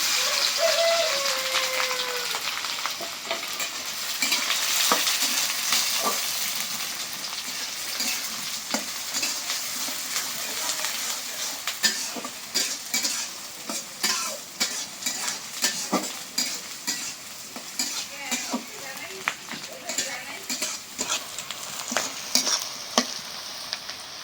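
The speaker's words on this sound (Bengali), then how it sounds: "পেঁয়াজ ভেজে নিলাম" Onion and green chili frying in a pan, a steady sizzle with repeated scraping stirs and utensil clinks, close and continuous with no talk.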